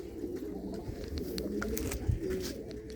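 Roughly three hundred pigeons in a loft fill the air with continuous overlapping coos, a dense, busy murmur with scattered sharper chirps and clicks.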